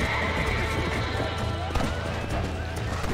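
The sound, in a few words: horse neighing in video game Red Dead Redemption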